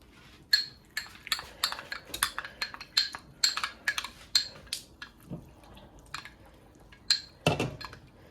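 A spoon clinks and taps against a small bowl while cornstarch is stirred into water for chicken soup, in a quick irregular run of light knocks that is fairly close and has no talk over it.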